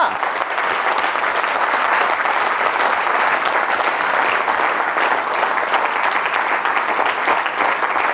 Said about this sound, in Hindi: कि तो एक्साइटेड होकर तालियां जोर से बजाइए ना।